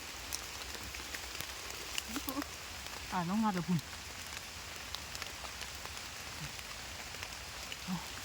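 Steady rain patters on a forest canopy during mushroom foraging in Thailand, a soft continuous hiss under brief bursts of people talking.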